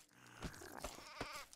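A sheep bleats in the Craft The World game, a few quiet wavering calls over soft background sound.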